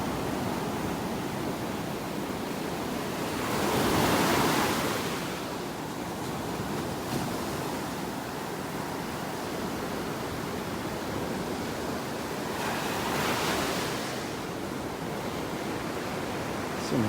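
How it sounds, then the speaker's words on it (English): Large ocean waves pounding on a beach at North Naples, Florida, a steady roar of surf with two heavier crashes swelling up, one early and one later, heard from a distance with no voices. "some of those waves are pretty big. You can hear them pounding out there once in a while."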